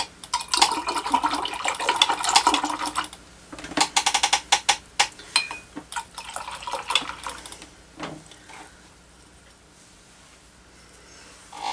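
Acrylic paint brush swished and rinsed in a water cup: busy splashing and clinking for the first few seconds, then quieter intermittent dabs and drips, fairly close, no voices.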